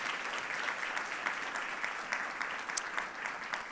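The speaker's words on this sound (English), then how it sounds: "Let's just give them a big round of applause." A room of people applauds at a philanthropy event, brief, steady, dense clapping at moderate loudness with no voices over it.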